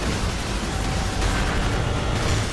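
Grenade explosion in the video game Cryptark, a dense, sustained broadband rumble with no clear attack, loud and steady across the whole stretch, with no voices.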